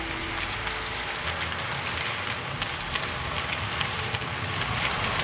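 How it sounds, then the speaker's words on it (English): A cement train rolls up to a road crossing with a broad, steady rumble and faint rhythmic clatter of wagons, heard from nearby without any talking. "Train pulls up to the crossing and makes you stop for the stop sign"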